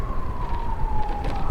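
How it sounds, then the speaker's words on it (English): An emergency vehicle siren wails along Rock Creek Parkway, a steady tone drifting slowly downward in pitch as it passes at moderate distance over constant traffic and road rumble. "There's a siren going through the Rock Creek Parkway"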